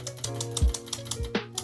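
Mechanical typewriter wired up as a gaming keyboard, its W key pressed: close, loud clacking strikes and ratcheting mechanism clicks in a quick irregular rhythm, with a couple of heavy thumps and no talking.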